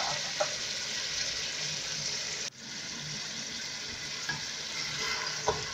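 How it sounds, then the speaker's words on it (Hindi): Beef, yogurt and spices fry in a pot for Lucknowi beef pulao, giving a loud, continuous close-up sizzle that cuts out briefly midway before resuming, with a few faint clicks of a utensil against the pot. "अब दही, गोश्त और इन तमाम चीज़ों को हम भूनेंगे।"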